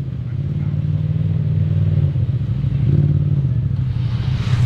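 Engine of an XTR 1000 side-by-side UTV rumbling on an off-road trail, a deep, steady, throaty idle close by with a slight rise in revs near the end.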